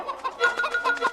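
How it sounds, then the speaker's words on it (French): Farm chickens cluck in short, close, overlapping calls, a brief burst of several throaty notes in quick succession with little else around them. "ce sont tous des poulets"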